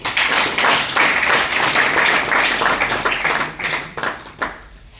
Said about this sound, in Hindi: लीजिए अपने बीच में ताली बजाओ भाई।